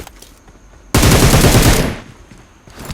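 Gunfire in a battle royale video game: a loud, dense burst of rapid shots lasting about a second, with quieter game sounds before and after.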